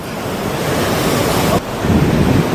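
Ocean waves surge and wash in the surf directly below a structure on the Jogja coast, a steady loud roar with wind buffeting the microphone, swelling again after a brief dip near the end.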